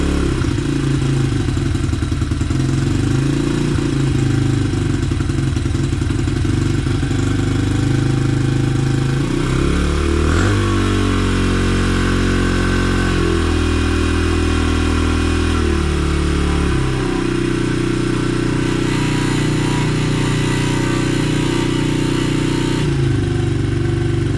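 Honda XR 100 motorcycle engine with a swapped Amazon carburetor, idling loudly and steadily at close range, with several throttle revs that rise and fall midway before settling back to idle.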